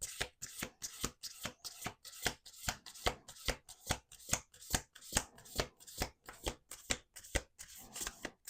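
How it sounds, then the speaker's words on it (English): Playing cards are riffle-shuffled over and over at close range, each pass a sharp papery burst in a steady, quick rhythm, with no talking. "Let's do one more shuffle."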